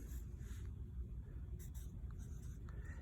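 A pencil scratches on a journal page as a name is written, a soft continuous scratching with faint low background hum and no talking.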